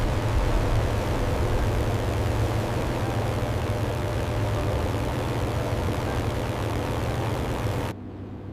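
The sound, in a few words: P-51 Mustang aircraft engine in flight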